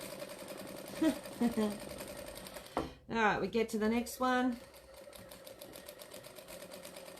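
Steady rapid whirring of a left-handed sewing machine doing free motion quilting throughout, briefly interrupted by a person speaking a few words near the middle.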